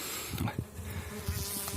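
Close, buzzing honeybees hum in uneven bursts, rising and falling as they fly near.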